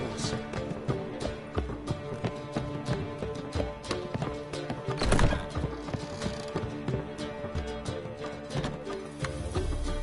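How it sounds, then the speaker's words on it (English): Racehorse hooves clip-clopping at a steady trot in The Witcher 3, a whinny rising briefly near the middle, all over a dense bed of game music and ambience. "Oh, it's a racehorse."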